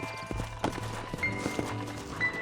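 Horse hooves clip-clop in a few scattered, uneven steps as riders get down from their mounts in the Red Dead Redemption western game, heard close over a low ambient bed.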